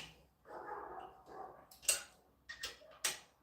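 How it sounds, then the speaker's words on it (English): A few sharp barks ring out from a distance, two or three separate bursts after a stretch of low murmuring background noise. "What are these dogs barking at?"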